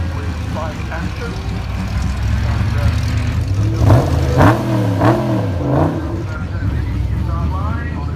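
A BMW 1000 RR superbike at the Goodwood Festival of Speed revs and surges, close and loud, under continuous talking from a crowd or commentator.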